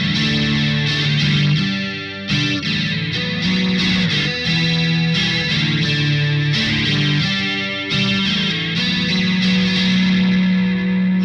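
Electric guitar played through a Sonicake QGT-01 multi-effects unit, a loud, sustained distorted tone with chorus shimmer and chords changing steadily throughout, no voices.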